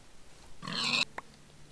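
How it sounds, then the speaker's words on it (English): A pig in the Minecraft video game gives a single short nasal oink followed by a faint blip, heard alone over a quiet game background. "Oh, stupid pig."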